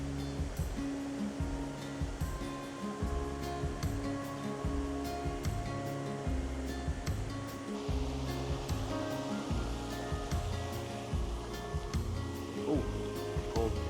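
River along the Kibune-Kurama trail riverbed in Kyoto, heard as continuous rushing water close by, with some faint voice sounds mixed in.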